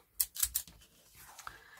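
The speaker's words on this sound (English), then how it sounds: "take this 6x6 card and a pair of these what do you call them, decorative edge scissors" Decorative edge scissors in the Colonial pattern cutting a 6x6 paper card: three quick, close, crisp snips, then a quieter rustle of paper, with no talk.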